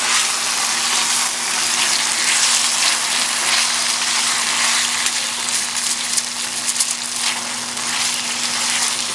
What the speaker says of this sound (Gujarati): કૂકરું એની અંદર નાખીને આપણે એને તળશું